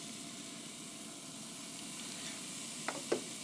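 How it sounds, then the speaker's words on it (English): Steady hiss of steaks sizzling on a hot Big Horn infrared grill, moderately loud and continuous, with a couple of sharp clicks near the end. "Listen to that sizzle."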